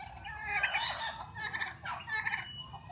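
Several turkeys gobble in rapid, warbling bursts, overlapping calls rising and falling at moderate distance.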